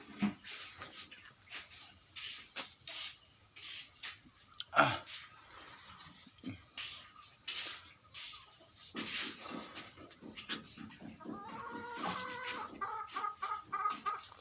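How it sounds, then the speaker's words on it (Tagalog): Chickens cluck and squawk in scattered bursts while being fed at a quiet mountain home, with crickets chirping softly underneath. "Pakain po tayo ng manok."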